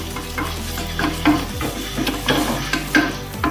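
Mushroom pepper masala with mint sizzles in hot oil while a spoon stirs and scrapes the pan in short, repeated strokes, close by.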